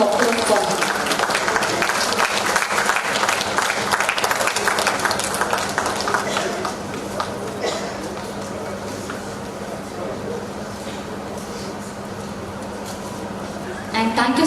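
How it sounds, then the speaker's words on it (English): Steady applause rises from an audience at a Puducherry event, loud and continuous at first and then fading to a softer wash, with a low steady hum beneath and voices mixed in. "Now let's give you a big round of applause for him."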